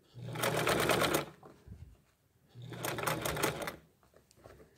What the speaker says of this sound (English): Make sure you don't stitch over your excess rope.